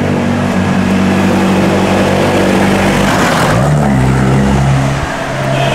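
Tourist traffic of tuk-tuks, jeeps and buses on a forest road in Sintra, with a loud engine close by that revs and shifts as a vehicle passes.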